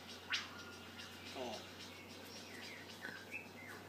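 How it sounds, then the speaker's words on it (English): Birds call on a nature TV programme about a forest, a few brief chirps and a short warbling phrase heard faintly through a television over steady low background hum, with quiet murmuring voices. "Do you like the birds?"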